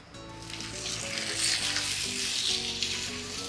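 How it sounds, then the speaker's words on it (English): Veal chops frying in hot oil in a wide pan, giving a loud, steady sizzle and crackle close up, continuous with no talk. "We're gonna fry the chops, the oil. You want it nice and hot."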